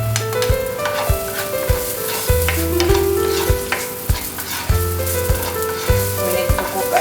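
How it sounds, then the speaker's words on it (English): Garlic, onion and tomato sauté in a pan, a steady close sizzle with repeated scraping and stirring clatters of a utensil against the pan and a low background hum. "Let's saute now the ingredients. We have garlic, onion, and tomato."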